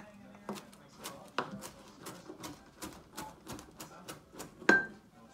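A knife chops fresh cilantro on a cutting board in a home kitchen: a quiet series of evenly spaced taps, with one sharper knock near the end.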